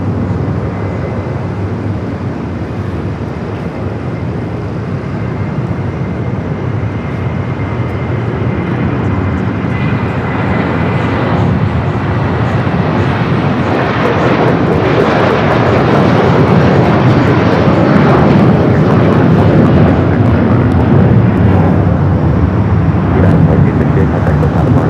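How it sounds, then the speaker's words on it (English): A United Boeing 757 taking off from LAX bound for Dulles, its jet roar swelling steadily louder over the run and staying loud and continuous to the end, with faint talk beneath. "Next takeoff, United flight heading to Dulles, 757 at 300"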